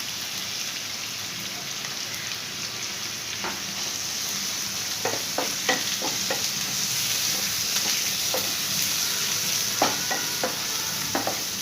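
Sliced onion, green chilli and curry leaves fry over a full flame in a pan, a steady loud sizzle with sharp clicks of a spoon stirring scattered throughout, no voices.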